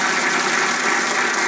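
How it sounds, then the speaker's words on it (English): Studio audience applauding models on a 1993 Irish TV fashion show featuring John Rocha designs, a steady dense clapping filling the room without any speech. "A round of applause for our models, please,"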